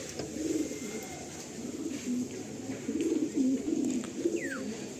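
Pigeons kept for tournament flying coo repeatedly in a low, throaty rhythm, several calls close by over a steady background hum with no talking.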